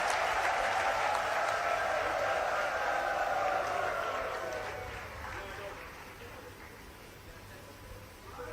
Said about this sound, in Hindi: जरा एक बार फिर से तालियां बजाकर इन नौजवानों का स्वागत करें आप।